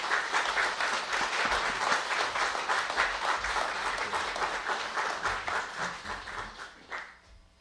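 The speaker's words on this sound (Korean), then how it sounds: "이제 목사님 나오실 때 한번 박수로 좀 맞이해 주시기 바랍니다" A church congregation claps steadily to welcome a pastor, a dense, even round of applause that holds loud for several seconds and then tapers off near the end, with no voices.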